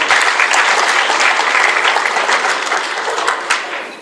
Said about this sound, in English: can you please clap our hands for her?